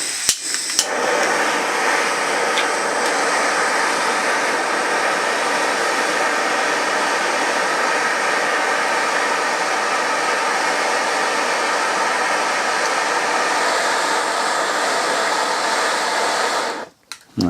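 Gas torch roaring steadily while heating a seized brake pipe fitting on an old barn-find BMW, a loud, broad hiss close by that runs for about sixteen seconds before cutting off abruptly.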